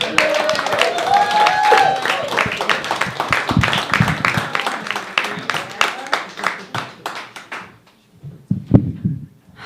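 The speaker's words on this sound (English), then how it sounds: "please give a loud round of applause for Dana Monica." Loud crowd applause at a stand-up comedy open mic, dense clapping that swells then thins out, followed by a few scattered claps and a voice near the end.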